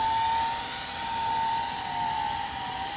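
A small jet engine on a 3D-printed RC model Boeing X-32 runs at a steady, loud whine, with a high sustained tone over an outdoor roar.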